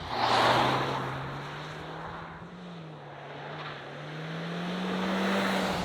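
A 2024 Honda CR-V front-wheel-drive engine drones steadily as it accelerates, the pitch rising slowly with road and wind noise around it, fairly loud and close.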